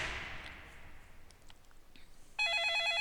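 In the Law & Order Legacies video game, an electronic telephone ring starts abruptly near the end and holds steady and loud. Faint clicks and a quiet room hush come before it.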